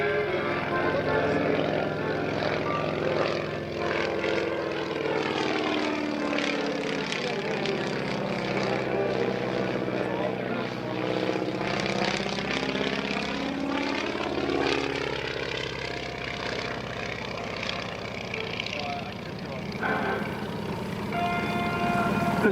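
A Stearman biplane flying at the 2024 National Warplane Museum airshow gives a droning radial engine and propeller roar. The pitch rises, sinks and climbs again as the plane passes the crowd, and a voice talks over it throughout.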